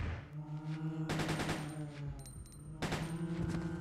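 Rapid gunfire aimed at zombies in Resident Evil Code Veronica X: two loud bursts of shots crack out a second or so apart over a low, droning game-music bed.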